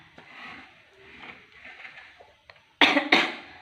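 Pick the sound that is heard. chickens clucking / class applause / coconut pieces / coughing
coughing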